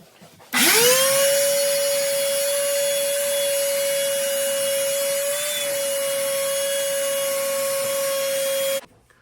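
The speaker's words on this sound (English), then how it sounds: "I'm gonna vacuum all of that water out" A vacuum switches on and runs steadily, sucking up leaked water from beneath an Electrolux washer, its motor whine loud and constant close by for about eight seconds before cutting off.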